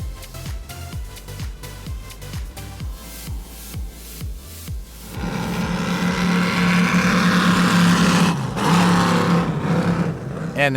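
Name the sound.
36-foot Spectre powerboat running on water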